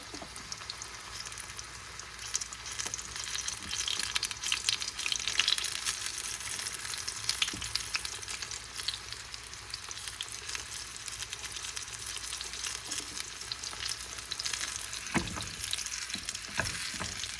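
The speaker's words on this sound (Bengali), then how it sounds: "এই যে তেলে দিয়ে দিয়েছি, খুব সিম করে দিয়েছি, তাড়াতাড়ি হয়ে যাবে।" Chicken cutlets fry gently in oil over low heat in a Bengali kitchen, giving a steady, fine crackling sizzle that runs unbroken throughout, with a few soft clicks near the end.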